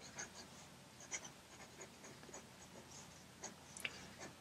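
A Namiki Falcon fountain pen with a soft broad nib scratches faintly across paper, with quiet intermittent nib strokes and a few tiny ticks in a hushed room.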